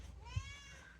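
A cat's drawn-out meow, a single crying call that rises and then slowly falls, heard close and fairly quiet with no talking over it.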